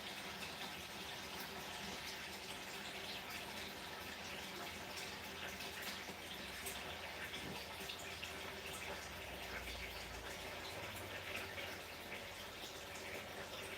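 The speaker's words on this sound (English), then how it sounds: "I'm just washing my hands, guys." Tap water runs steadily into a sink while hands are washed, a continuous even splashing hiss held close throughout with no talking.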